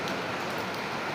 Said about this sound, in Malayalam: വെള്ളം പുറത്ത് നല്ല മഴയാണ്.